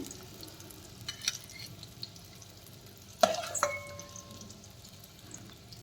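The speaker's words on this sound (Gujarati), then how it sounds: "અને આપણું ભીંડો સોફ્ટ થાય ત્યાં સુધી આપણે આને સાતળવાનું છે" Okra and green chili sambharo sautés in a pan with a quiet, steady sizzle, a couple of stirring clatters and a brief metallic clink partway through.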